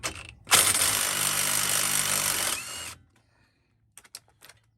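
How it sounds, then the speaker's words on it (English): A power tool spins loose a bolt on the front suspension of a 1998-2011 Ford Ranger, making one loud continuous whirring burst of about two seconds, followed by quiet and a few faint clinks. "So now we're going to undo this bolt right here."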